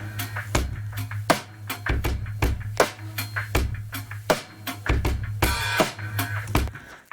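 Drum kit track processed with a stereo widener plugin, with a steady pattern of kick, snare and cymbal hits, a sustained low tone underneath, and a burst of bright cymbal wash near the end.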